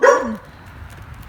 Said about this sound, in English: Pollux has a deep, big dog bark.